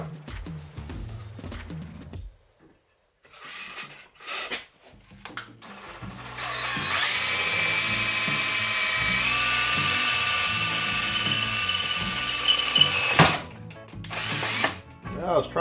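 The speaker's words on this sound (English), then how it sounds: "I was trying to save the drill bit" A power drill whines steadily for several seconds, loud and close, with a rising pitch as it spins up, framed by short bursts of handling noise.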